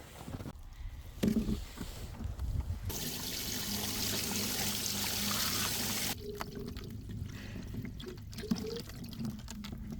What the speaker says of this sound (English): Amazing how kind of warm the water is coming out of the ground.